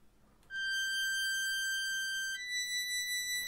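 A synthesized English horn plays a slow, sustained melody of long held notes, reedy, clear and steady with no voices.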